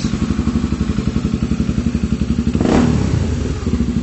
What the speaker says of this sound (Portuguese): Faz barulho, viu? XRE 300, injeção eletrônica.